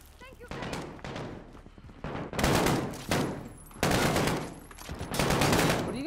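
Gunfire in Call of Duty Modern Warfare campaign combat, loud bursts of automatic shots in separate volleys, broken by quieter gaps and shouted voices.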